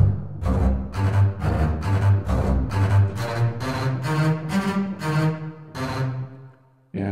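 Triple spiccato strings from the 8Dio Century Ostinato library, an ensemble bouncing short bowed notes in quick groups of three, rhythmic and steady at moderate loudness, ending with a brief decay and no voices.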